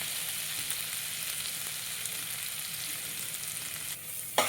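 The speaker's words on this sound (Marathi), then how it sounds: "खोबरं आलं लसूण पेस्ट ही इथे परतून घेणार आहे" Coconut, ginger and garlic paste with turmeric sautéing in a pan over low flame, a steady close hiss and crackle of sizzling that holds evenly, ending with a brief clatter, no talking.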